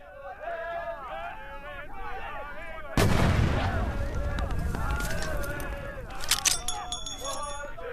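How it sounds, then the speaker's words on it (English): In the Medal of Honor: Above and Beyond VR game, a German stick grenade bursts in a loud sudden blast, followed by rumbling debris and scattered impacts while someone talks before and around it. "Now this is a German hand grenade"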